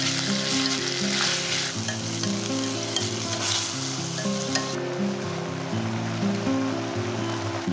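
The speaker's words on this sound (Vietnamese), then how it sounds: "Khi hành tỏi đã dậy mùi thơm thì tiếp tục cho ốc đã ướp vào xào." Marinated snails stir-fried in a clay pot with garlic and shallots give a steady, close sizzle and crackle of hot oil, with scraping and stirring running through the whole stretch and no voices.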